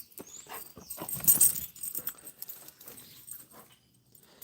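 Excited pet dog greeting its owner with whimpers, snuffles and scrabbling paws, close and fairly loud in bursts, with jangling sounds mixed in.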